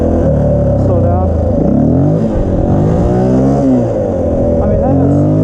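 Honda XR400R motorcycle pulling hard in second gear, its engine note climbing steadily and loud up close, with rising harmonic sweeps as it accelerates and a brief dip before revving again.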